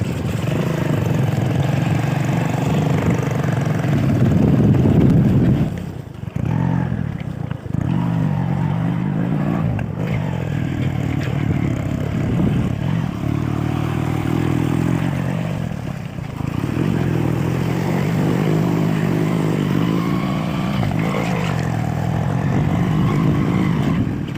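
A motorcycle engine drones steadily at close range as it rides along a river, with a brief dip in the rumble now and then.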